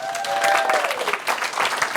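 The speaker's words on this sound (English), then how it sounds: "Can we give Jack a round of applause?" An audience applauds a guest named Jack from Smart Home Wales at a live event, dense steady clapping that swells and holds for two seconds while a faint tone glides down beneath it.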